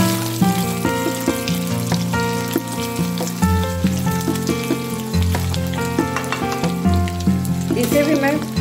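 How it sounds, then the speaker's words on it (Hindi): Potato pieces fry loudly in a pan of hot oil, giving a close, continuous crackling sizzle with occasional light stirring and no talking. "इसे भी मैं बिल्कुल परवल की तरह फ्राई कर लेती हूँ।"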